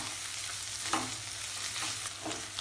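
Coriander, mint and green chillies sizzle in hot oil in a frying pan while a utensil stirs them. The crackle is steady and close, with a few scraping strokes across the pan.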